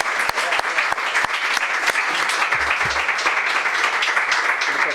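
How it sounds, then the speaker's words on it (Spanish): Audience applause for Belén at a talk on Spain's forty years in Europe, a dense steady wash of many hands clapping with a few sharper nearby claps standing out, continuous for the whole stretch. "yo creo que le damos un aplauso a Belén."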